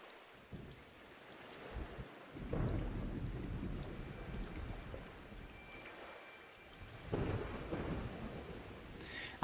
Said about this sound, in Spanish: ¿Cómo apetece esta lluvia ahora mismo?